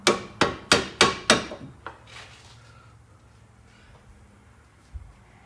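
A hammer tapping on a front brake part of a 2013 Kia Sportage, five sharp metallic strikes in quick even rhythm, then a lighter tap and quiet, with one more knock later.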